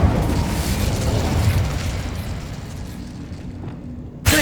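Incendio, a fire spell, is cast in Hogwarts Legacy, with a loud rushing, crackling burst that fades slowly and is cut off by a sharp new hit at the very end.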